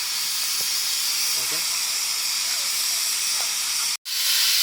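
Steam hisses steadily from a pressure cooker's whistle in a kitchen, a loud continuous rush that breaks off abruptly near the end before resuming, with faint voices underneath.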